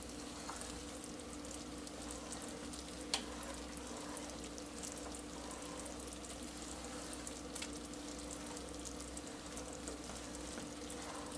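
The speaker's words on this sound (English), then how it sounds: "Just gentle stir so we don't get spattered." A chocolate marshmallow fudge mixture bubbles and sizzles steadily in a pot as it is gently stirred, a continuous close frying-like hiss with a couple of sharp small clicks, no voices.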